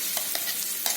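Green chana dal paste stirred into fried masala in a pan, with a steady close sizzle and three soft scraping strokes of the spoon across one second.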